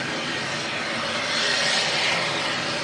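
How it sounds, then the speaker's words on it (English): An ATR 72 turboprop taxiing past at Manchester Airport, a loud, steady broadband engine roar with a whining hiss that swells slightly midway, close by and continuous with no talk. "Nice loud ATR 72 there,"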